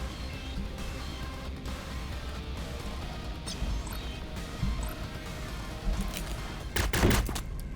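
Gunfire from a dual-pistol Gun Kata attack in Cyber Knights Flashpoint, a string of rapid shots rattling through busy game ambience before a heavier burst near the end.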